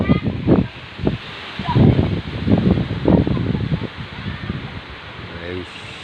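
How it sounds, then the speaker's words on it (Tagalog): Strong winds of Typhoon Tino at Hacienda Basa, Victorias City, roar as a constant hiss beneath a man's loud, excited talking. "grabe ang hangin"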